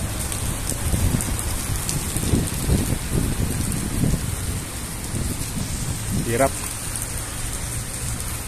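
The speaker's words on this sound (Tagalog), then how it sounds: "Tuloy-tuloy ang ulan, oh." Heavy rain falls steadily during a storm on flooded streets in Abu Dhabi, a constant hiss over a low rumble, with a voice speaking briefly and passing sounds underneath.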